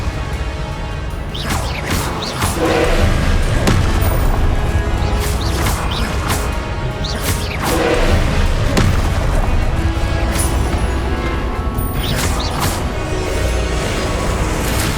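Spells cast in combat in Hogwarts Legacy sound as repeated booming blasts and crashing impacts, loud and spaced a few seconds apart over dense game noise, with some speech mixed in.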